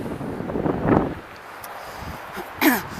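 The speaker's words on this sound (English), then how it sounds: "The wind's blowing at me" Gusts of wind buffet the microphone with low rumbling bursts, one near the start and another near the end, over faint outdoor background.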